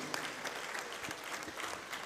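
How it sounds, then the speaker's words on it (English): Audience applause at a Rotary district conference honouring the District Governor, a steady wash of many hands clapping at moderate, somewhat distant level for a couple of seconds. "Let's give a big round of applause to our District Governor."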